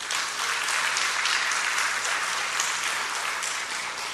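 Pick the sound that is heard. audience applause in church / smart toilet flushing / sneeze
audience applause in church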